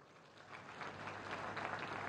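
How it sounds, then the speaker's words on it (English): Applause from the audience at SEMICON India 2024 in Greater Noida, a soft, steady patter of many hands clapping that sounds distant and fairly faint, swelling a little over its course. "Please join me in welcoming them with a round of applause"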